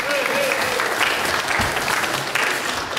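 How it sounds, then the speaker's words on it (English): A Sunday morning worship congregation gives a round of applause, a loud, dense and continuous clapping that holds steady throughout with a faint voice in the background. "Give him another round of applause"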